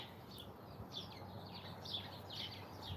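Outdoor birdsong on a windy morning: a string of high, quick chirps and twitters repeats across the clip, fairly faint above a low, steady wind noise.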